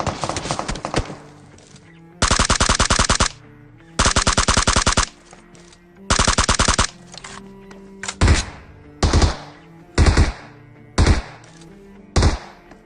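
Video game battle gunfire, with rapid automatic bursts in three long, loud volleys followed by a series of single heavy shots at a steady rhythm, close and alone.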